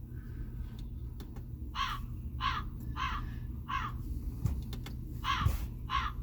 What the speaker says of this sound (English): that's a crow, man